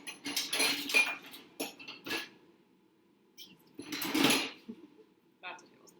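Metal cutlery clinks and rattles in short bursts while someone rummages through a kitchen drawer for a tablespoon during home pasta cooking, with voices talking over the clatter.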